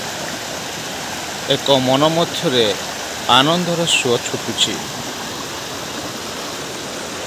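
Forest waterfall streaming down from the hills, a steady broadband rush of flowing water running throughout, with someone speaking over it in the middle.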